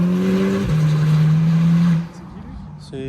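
A turbocharged rally car, apparently a Porsche 911, revs hard at a rally stage, its loud sustained engine note holding high before cutting off abruptly, followed by quieter engine sounds and a brief burst near the end.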